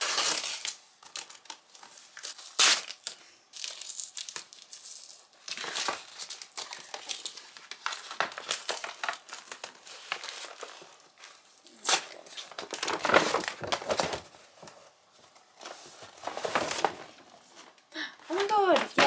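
Crinkly plastic packaging around a mailed book parcel is crumpled, torn and rustled in irregular bursts of handling, close and fairly quiet, with occasional talk in between.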